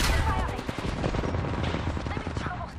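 Dense, continuous gunfire in Apex Legends rattles loud and close throughout, with rapid overlapping shots forming a steady barrage.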